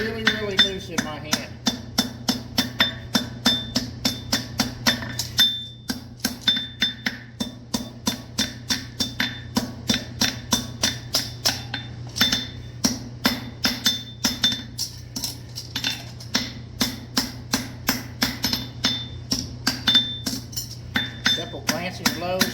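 Hammer striking an anvil with a loose grip in glancing blows, a long steady series of bright ringing metallic clinks in quick even rhythm, close and clear.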